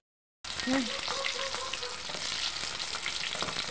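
Milkfish (bangus) fries in a pan with a steady, loud sizzle that kicks in abruptly after a short silence and runs on continuously, sprinkled with small crackles and pops, no voices.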